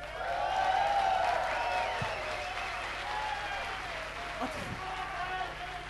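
Applause from the crowd at a live concert in Hokkaido, a broad, steady wash of clapping with cheering voices and a voice over it.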